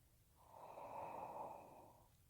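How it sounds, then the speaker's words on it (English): One smooth, slow breath during a yoga practice for pigeon pose, a soft close airy exhale that swells and fades over about two seconds. "Nice smooth breathing."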